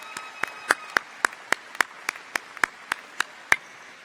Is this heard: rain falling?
no